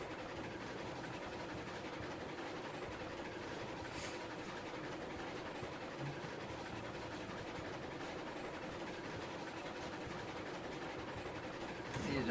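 A train running in the Railroads Online video game: a steady, continuous rolling rumble with faint clickety-clack, moderately loud and unbroken throughout, with a brief swell at the end.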